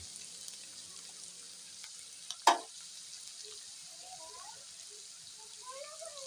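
Chopped onion, garlic and ginger go into a hot pan with a sudden clatter, then a faint, soft sizzle carries on quietly afterward, with low voice-like sounds in the background.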